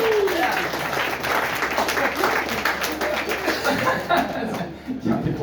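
A comedy club audience at a stand-up show bursts into applause mixed with chuckles and scattered laughter, dense clapping rolling in waves over several seconds with a voice briefly heard over it before it thins out.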